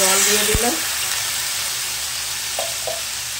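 Water goes into vegetables frying in a pan for Bengali shukto, bringing a loud, close hiss at the start that settles into a steady sizzle with a few faint utensil taps.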